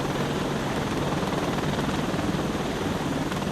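A helicopter in the Defender Patrol VR game gives a steady, loud broadband rotor and engine roar that holds unbroken throughout, with no talk over it.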